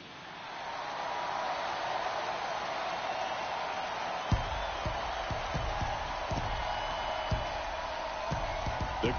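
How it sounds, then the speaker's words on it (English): In the MLB 23 baseball video game, a ballpark crowd roars steadily as a broad wash of noise, with faint claps and whoops and some low thumps in the second half. "crowd is amped up, ready to get this season underway"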